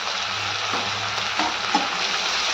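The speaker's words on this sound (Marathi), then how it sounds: "आपण याच्यामध्ये टाकू हिरवी मिरचीचा ठेचा आणि हा पण आपल्याला या कांद्यासोबत छान असा परतून घ्यायचा आहे." Onion and crushed green chili paste sizzle steadily in a hot kadai for Marathi shev bhaji, a continuous close frying hiss with a few faint scrapes of stirring.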